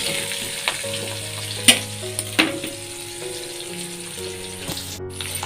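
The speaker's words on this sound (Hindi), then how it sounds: "ये लगता है छौंका।" Red chili, asafoetida and onion crackle and sizzle in hot oil for tempering, a steady frying hiss with occasional sharp pops and stirring, under faint background music.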